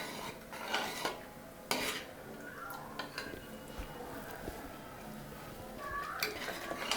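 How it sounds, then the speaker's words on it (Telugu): Tomato dal being stirred in a pressure cooker pot, with soft scraping and intermittent clinks of a spoon against the metal rim, close and fairly quiet, and brief speech in between. "అడుగంటకుండా కలుపుతూ ఉండాలి"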